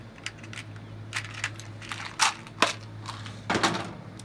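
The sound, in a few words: putting a wire nut on air conditioner low pressure switch wires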